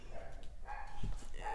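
A dog barks in short, fairly faint bursts, two or three yips spaced about a second apart over a low steady background.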